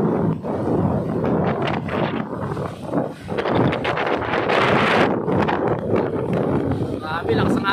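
Strong gusting wind from Typhoon Paeng on Pandan Island buffets the microphone in loud, continuous roaring bursts, with people talking faintly underneath.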